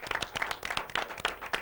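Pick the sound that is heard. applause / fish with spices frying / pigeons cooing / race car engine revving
applause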